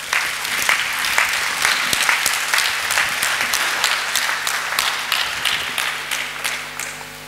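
A church congregation applauds to acclaim their king during a Sunday service, a dense, sustained wave of clapping from many hands that fades slightly toward the end.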